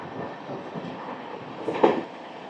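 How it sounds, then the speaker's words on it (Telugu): A Mumbai local train rumbles past nearby with a steady low roar and a brief sharper clatter near the end. "ముంబై అంటేనే లోకల్ ట్రైన్స్ అలా తిరుగుతూనే ఉంటాయి"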